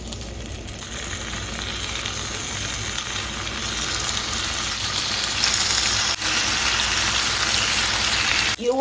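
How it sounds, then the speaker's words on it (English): Strips of bacon frying in a skillet, a steady, dense crackling sizzle that holds close and loud throughout with no one talking. "now it's time to fry our bacon"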